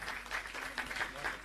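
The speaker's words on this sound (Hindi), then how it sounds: "तालियां बजती रहें।" Applause from an audience at a student excellence awards ceremony in Delhi, with faint, steady clapping that swells in waves while an announcer speaks over it.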